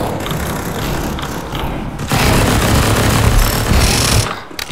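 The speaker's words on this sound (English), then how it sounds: "That's a bomb!" A bomb explodes in Counter-Strike 2, a sudden loud, dense rumbling blast about midway through that swells over heavy ongoing game noise and lingers for a couple of seconds before fading.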